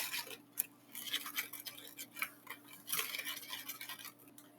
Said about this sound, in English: So you just stir it.